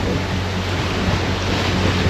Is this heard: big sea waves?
yes